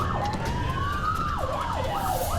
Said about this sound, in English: use your sirens as well